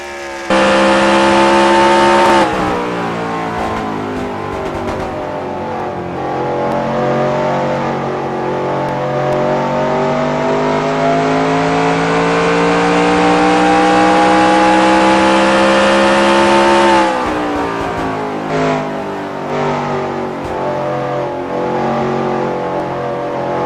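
An ARCA race car in a racing video game laps the Milwaukee Mile, its engine a loud continuous whine rising and falling in pitch through upshifts and throttle lifts, with a brief drop near the end of the lap.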